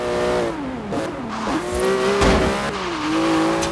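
A car in the Forza Horizon 3 racing game braking hard with a steady, loud engine drone and rising whine that dips and swells, brief tire squeal bursts cutting through mid-race.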